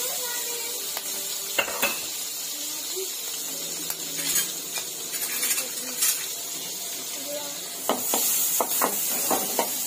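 Chillies sizzle in melted butter in a pan, a steady close frying hiss with occasional scrapes and clinks of a spoon stirring against the metal.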